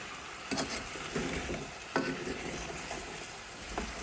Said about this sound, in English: They're sort of bursting in the pan.